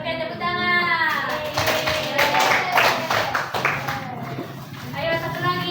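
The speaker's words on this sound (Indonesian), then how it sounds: "oke, tepuk tangan" A group of children claps hands in a quick, dense burst that swells and fades. Children's and adults' voices talk and call out over and around the clapping.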